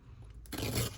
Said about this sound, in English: I'm going to tear little strips